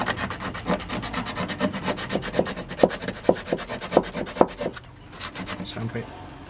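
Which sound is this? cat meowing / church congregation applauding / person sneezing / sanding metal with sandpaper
sanding metal with sandpaper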